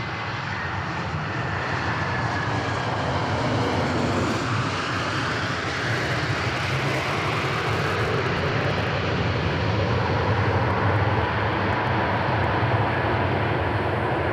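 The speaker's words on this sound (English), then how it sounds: "The Falcon 900 has been around forever. The tri-jet design is likely for power and redundancy" A Dassault Falcon 900 tri-jet business jet at Dallas Love Field, its engines giving a loud, steady broadband roar that holds for the whole stretch with no talk.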